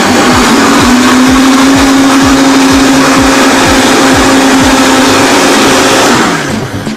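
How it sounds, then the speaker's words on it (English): A blender runs loud and steady while olive oil is poured in, holding a constant whirring motor tone with rhythmic churning pulses, then winding down at the end. "turn your blender on"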